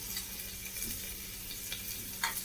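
Ginger garlic paste sautéing with onions in a pot for mutton yakhni pulao, a faint, steady low sizzle with soft stirring scrapes and no talking.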